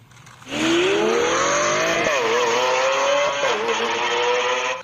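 Toy sports car with a revving engine sound, a loud continuous whine that climbs steadily in pitch, dips, then climbs again, close and alone without talk.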